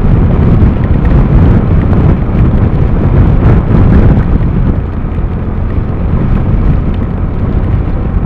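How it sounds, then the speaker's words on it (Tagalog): Strong wind buffets the microphone while riding a motorcycle in stormy rain, a loud, continuous roaring rush with deep low-end turbulence throughout and no talking. "Lakas ng hangin."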